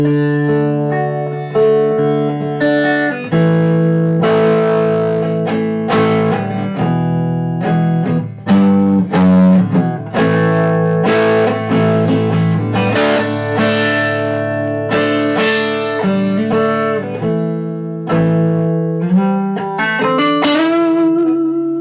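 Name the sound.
custom semi-acoustic guitar being played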